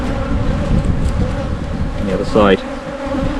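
A honey bee swarm fills a hive with a dense, steady buzz up close, a single bee whining past briefly, while a person speaks a few words over it.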